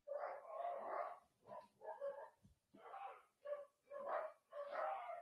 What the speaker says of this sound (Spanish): tengo un poco de perro loco de vecino aquí al lado